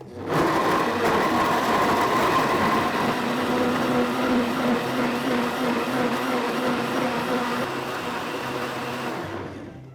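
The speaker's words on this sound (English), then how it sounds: "it's such a powerful blender that it should work just fine" A powerful Blendtec blender purees cauliflower sauce at a lowish medium speed, giving a loud, steady, close whirring roar that holds for about nine seconds before trailing off.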